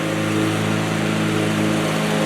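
Lawn mower cutting grass beside an off-grid cabin, its engine droning loud and steady nearby with a strong tonal hum and no pauses or voices.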